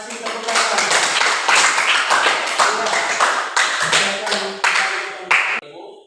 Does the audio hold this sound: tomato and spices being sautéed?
no